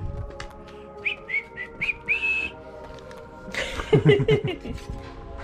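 Short bursts of whistled notes rise and slide while painting a house, followed by a brief chuckle and some murmured voices nearby.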